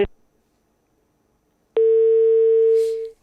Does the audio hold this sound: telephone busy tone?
yes